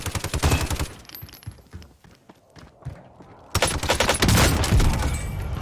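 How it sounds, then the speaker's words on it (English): Rapid bursts of automatic gunfire ring out in a Call of Duty Warzone firefight, loud and close, with a short lull of scattered shots before a dense volley resumes. "Clean gunfight."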